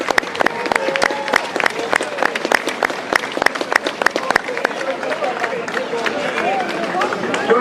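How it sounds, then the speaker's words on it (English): A crowd at a Westmeath GAA junior football final applauds the two teams, sharp scattered claps with crowd babble behind them that thin out toward the end. "will you join together first of all and give a big clap to our two teams for two fantastic games of football."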